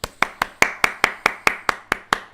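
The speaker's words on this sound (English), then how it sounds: "Big round of applause that we've actually got the ball in the field." Hands clapping in a steady slow rhythm, about eleven sharp claps close by during a rugby league World Cup England vs Samoa live commentary stream, with no voices.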